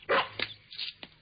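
A cartoon dog barks loudly once, then gives shorter yelps and a soft whimper, close and clear with no talking.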